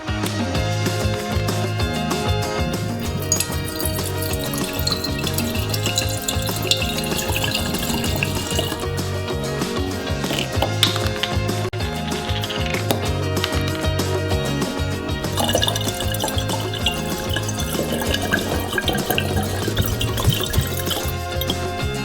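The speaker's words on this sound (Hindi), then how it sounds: "अंतिम फ्लास्क बचा है और हम इसमें स्पिरिट की 2 बोतलें डालेंगे।" Two bottles of spirit are poured into a flask, making a continuous liquid gurgle and trickle with small drips, close and steady throughout, with no voices.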